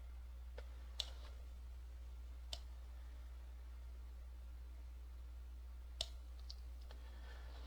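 Mouse clicks in Google Sheets come as a few faint, sharp, isolated taps spaced over several seconds against a quiet low hum.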